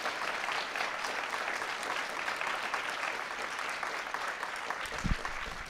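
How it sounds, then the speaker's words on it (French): Steady audience applause for two speakers at the close of a debate on Europe, an even, continuous patter of clapping heard at moderate distance. "Enrico Letta et Bernard Guetta, que je crois on peut applaudir"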